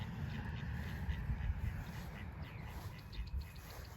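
Ducks quack faintly and briefly during a spring orchard walk, nearly buried under steady wind rumble and broad outdoor noise.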